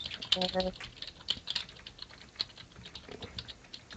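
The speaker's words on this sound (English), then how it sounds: "We're just there typing away" Someone types on a computer keyboard, quiet close clicking keystrokes in irregular bursts, with brief talking in the background.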